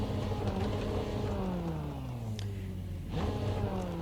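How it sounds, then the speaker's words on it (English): A Formula Renault 3.5 race car engine in iRacing held at its launch limiter, a loud, steady high-pitched drone with stacked harmonics that dips and then climbs back, continuous and alone without any voices. "So now I can floor the throttle"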